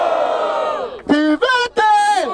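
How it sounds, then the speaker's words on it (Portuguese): A crowd at a rap battle in Barueri, São Paulo, shouts and cheers in loud bursts, with a sustained yell followed by several short chant-like shouts close to the mic. "barulho para as rimas de Refel!"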